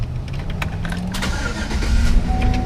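A car engine turns over and catches after being started without a key using a screwdriver, settling into a steady, close, rumbling idle with a few clicks on top.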